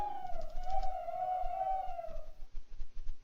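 Owls from the Biogenesis mod in a Minecraft modpack give a steady, fairly loud cooing call that holds for about two seconds, then fades into softer scattered sounds.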